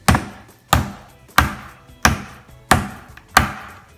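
Steak being pounded to tenderize it for a steak-and-mushroom dinner: six loud, evenly spaced heavy thuds about two-thirds of a second apart, each with a short ringing tail, close and without speech.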